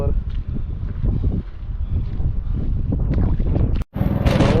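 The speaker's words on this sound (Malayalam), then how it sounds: "നല്ല കാറ്റുണ്ട്" Strong wind buffeting the microphone in a loud, continuous low roar while out fishing, with voices partly buried beneath it.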